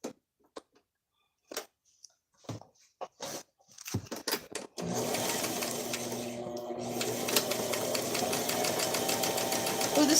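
Sewing machine stitching soft fabric runs in a steady close-up whir after a few seconds of scattered handling clicks and taps, then continues unbroken to the end with no voices.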